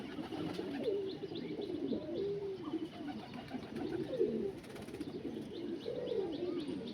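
Several pigeons of a prized bloodline, with trimmed feathers, coo in repeated low rolling phrases close by, overlapping one another over steady background noise, with a few faint chirps.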